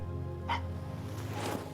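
A dog gives a short, faint bark, followed a moment later by a second brief yip over a low steady background hum.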